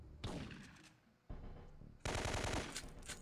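Rapid automatic gunfire in the video game Syphon Filter 3, coming as three loud, dense bursts of shots separated by short gaps, with no talking.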